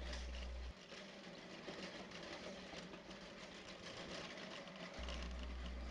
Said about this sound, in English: Remember I showed you that machine sorting the flats and magazines? It's actually a big machine.